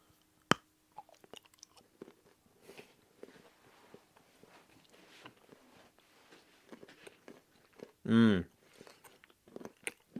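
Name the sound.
chewing crunchy dark chocolate bar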